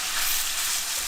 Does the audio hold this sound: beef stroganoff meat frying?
yes